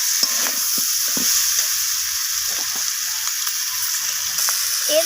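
Spices with green chillies sautéing in a pan give off a continuous bright sizzle, with occasional soft scrapes and taps of a spatula stirring, close and steady with no talking.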